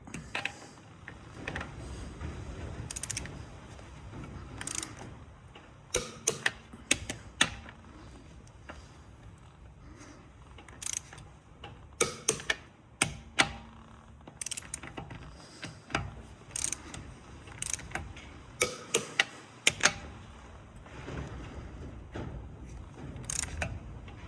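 A torque wrench on a 2021-era Honda Jazz anti-roll bar drop link gives sharp ratcheting clicks in irregular bursts over a quiet background, fairly close and faint.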